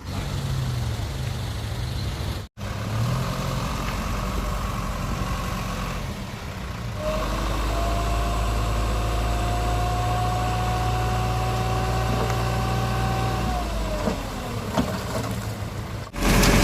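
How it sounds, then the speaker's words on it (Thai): A heavy diesel tractor engine drones steadily up close while pushing into soft soil, its pitch rising under load with a whining tone, briefly cutting out near the start. "เดี๋ยวใช้รถไถดันเข้าไป นะครับ"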